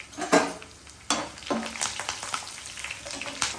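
Cumin, mustard seeds, green chillies, garlic and curry leaves fry in hot oil, crackling and sizzling up close, with spatula stirring scrapes and sharp pops breaking through the continuous hiss.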